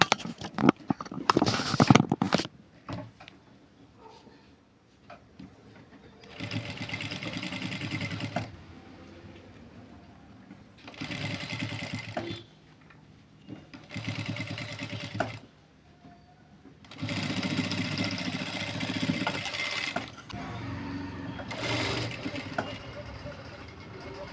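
Sewing machine stitching a maggam work blouse neck with a double presser foot runs in several bursts of a few seconds each, separated by pauses, with a louder clatter near the start.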